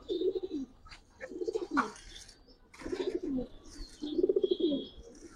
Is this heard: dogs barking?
no